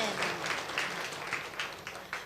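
A church congregation claps together during a Sunday worship service, a steady, moderately faint patter of many hands with a few louder bursts, heard alone without talk.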